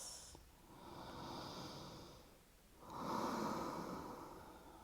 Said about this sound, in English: Deep breath in, and deep breath out